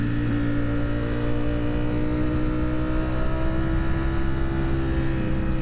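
Ducati motorcycle engine fitted with an aftermarket exhaust, running at a steady idle with a deep, continuous, loud drone and no speech.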